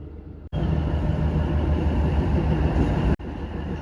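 A train on the Kashmir railway between Budgam and Banihal rumbles along steadily at close range, a loud, continuous rolling roar with a brief cut partway through and no voices.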